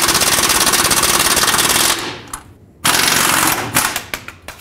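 Power tool loosening a 30 mm nut and bolt on the track bar of a 2008-2010 Ford F-250: a loud, rapid hammering burst, a short pause, then another burst that breaks into a few sputtering hits.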